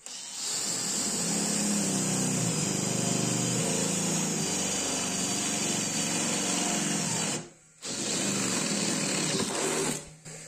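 Electric drill boring a hole with a freshly sharpened twist bit, a steady loud motor whine and cutting drone that runs continuously, drops out briefly near the end, then resumes.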